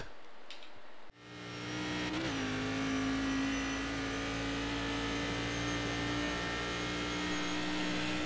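A race car laps Summit Point Raceway, its engine a loud, steady onboard drone that drops out briefly, then surges back and holds a sustained pitch with a faint rise.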